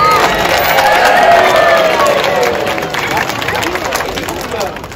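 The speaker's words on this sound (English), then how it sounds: "So let's give a nice big cheer as he jumps in" A safari park crowd cheers and claps as a sea lion jumps into the water, a broad wash of voices and applause that builds and then slowly fades, with chatter mixed in.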